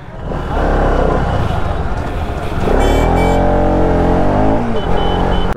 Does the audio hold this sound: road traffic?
yes